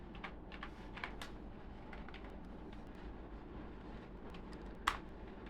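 Soft, irregular clicking of keys on a computer keyboard while writing Django REST Framework code, faint and close, with a few sharper keystrokes standing out against a low background hum.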